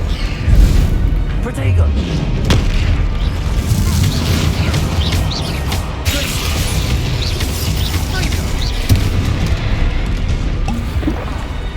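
Bombarda spell explosions in Hogwarts Legacy thud and crash during combat, several heavy impacts scattered amid clanking mechanical noise, while a player talks over the action.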